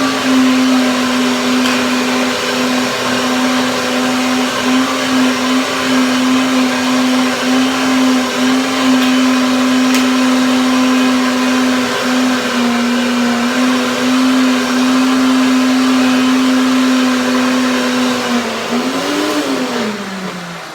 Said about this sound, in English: And now I will blend it again and have my second layer.